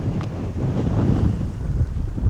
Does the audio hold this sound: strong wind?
yes